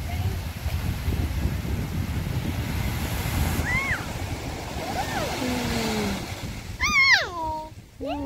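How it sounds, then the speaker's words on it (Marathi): Ocean surf at Dahanu beach rolls in as a steady low roar with wind buffeting the microphone, while voices and bird-like whistles rise over it toward the end. "समुद्राचे पाणीचा आवाज एक नंबर येत आहे."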